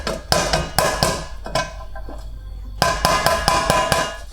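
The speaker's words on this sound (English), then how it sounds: "You can help yourself with a hammer first." Loud, sharp hammer blows on a metal pizza skimmer, coming in quick bursts with a short pause in the middle, ringing slightly after each strike.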